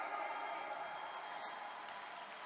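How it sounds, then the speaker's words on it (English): Audience applause at an indoor corporate training seminar, a steady wash of clapping from a crowd that holds for a couple of seconds and fades slightly, with no talk over it. "Can we all give ourselves a round of applause today?"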